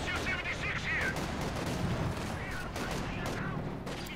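An artillery barrage in the Company of Heroes 2 strategy game rumbles on, dense booms and crackling blasts layered continuously under lively commentary.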